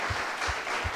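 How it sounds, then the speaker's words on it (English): Applause from an audience honoring faculty mentors at a PGDM batch inauguration event, a steady broad wash of clapping with a few stronger swells, sustained throughout with no voices over it. "I would like to hear a roaring round of applause for all these faculty mentors"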